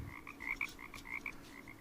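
Green toads croak in a rapid, rhythmic series of short, bright calls, moderately close against a quiet background with no voices.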